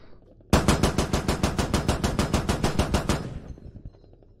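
A coaxial machine gun fires in the Squad video game as one loud, fast, evenly spaced burst of about three seconds, then cuts off into a fading rumble.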